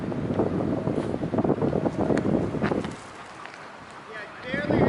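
Gusty wind buffets the microphone outdoors, likely on a boat, while a small kite is flown; loud rushing noise for about three seconds, then a brief lull before the wind rises again.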